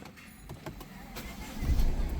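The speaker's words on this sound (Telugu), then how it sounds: "ఇంజన్ స్టార్ట్ అయిపోయింది" A 2017 Honda City VX 1.5 i-DTEC diesel fires up from a push-button start: a quiet interior hush, then a low engine rumble swelling near the end of the short clip.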